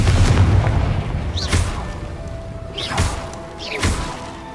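A fiery Confringo blast spell in the Hogwarts Legacy video game, with a loud booming impact followed by three more explosive thumps with whooshing bursts, spaced about a second apart.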